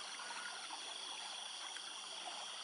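Water released from a dam flows in a steady, even rush of mid and high hiss, faint and continuous with no voices.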